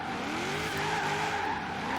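Drift Maloo tires screeching through a drift in a video game, a continuous loud squeal with wavering pitch over the engine, no voices.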